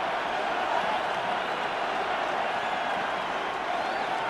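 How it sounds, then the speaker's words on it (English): A stadium crowd in the football video game Madden 26 roars in a steady, dense wash of distant cheering and chatter that holds at an even level throughout, with no clear talk above it. "this crowd doing their best to make a lot of racket"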